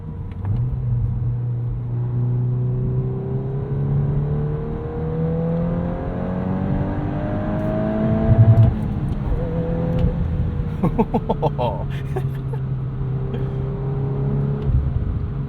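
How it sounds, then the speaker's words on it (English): 2022 Volkswagen Golf R with six-speed manual, engine revving up toward the rev limiter from inside the cabin, a rising droning pitch that climbs, tops out with stuttering limiter bursts, then settles back to a steady hum. "Always got to test out the rev limiter"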